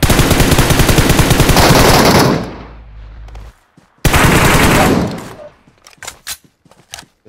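PUBG Mobile gunfire in loud, close automatic bursts, two long sustained volleys with a pause between, followed by a few scattered single shots.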